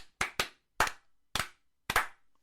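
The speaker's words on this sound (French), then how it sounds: "Bébert, on l'applaudit bien" A handful of sharp, separate hand claps ring out close by, about five in a sparse irregular rhythm with silence between them, like a small group giving brief applause.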